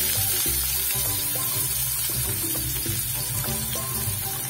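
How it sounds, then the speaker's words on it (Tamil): Chopped onions sautéing in hot oil in a pan for restaurant-style vegetable noodles, a steady close sizzle with faint clinks of stirring running throughout, no voices. "நல்லா வதக்கி விடுங்க."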